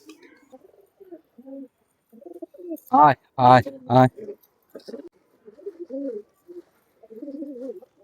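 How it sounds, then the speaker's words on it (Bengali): Soft, low pigeon coos murmur on and off as the birds are fed, interrupted midway by a person calling out loudly three times. "এখন আমি পায়রাগুলোকে খাবার দিয়ে দিই।"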